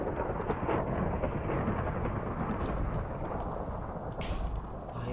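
Minecraft thunderstorm: a loud, continuous rumble of thunder with heavy rain filling the whole stretch, holding steady and close with no talk over it.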